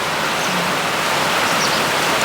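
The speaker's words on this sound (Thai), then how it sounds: "ฝนมันตกมาะ ตกคักตกแน่ดีได้" Heavy rain pours down in a dense, steady hiss that fills the whole stretch, loud and unbroken, with no voices over it.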